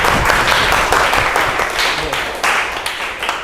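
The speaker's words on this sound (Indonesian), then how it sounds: "tepuk tangan untuk kelompok 1" A classroom audience applauds a student presentation group, a dense burst of clapping that swells and fades in waves over a few seconds.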